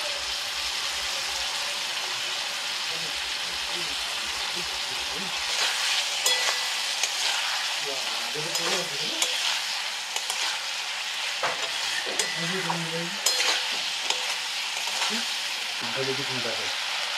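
Small fish frying in a spiced masala in a pan with a little water, a steady broadband sizzle running throughout, broken by occasional stirring scrapes and faint background voices in the later part.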